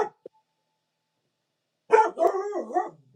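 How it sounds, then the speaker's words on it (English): A dog barks once briefly near the start, then after a pause lets out a longer run of barking and yipping whines, fairly close and alone. "I'm sorry about the dog."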